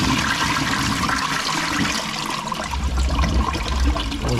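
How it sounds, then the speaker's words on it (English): A toilet flushing during work on a blocked toilet drain, with steady rushing water throughout and a heavier gurgling swell toward the end, close and loud with no talk. "I'm going to toss this in there, flush it away."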